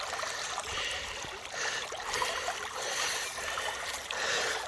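A shallow creek flows and trickles steadily at moderate distance, a soft continuous hiss of moving water with occasional faint splashes.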